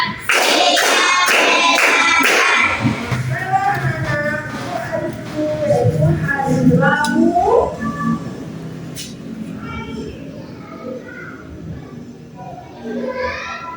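A group of schoolchildren claps quickly about five times at the start, crisp and close, before a teacher's voice talks over the room.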